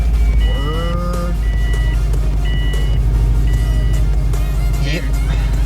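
A stage 2 tuned Subaru WRX with COBB mapping idles loudly and steadily up close, with a deep rumble throughout, while people talk over it and a few beeping tones sound.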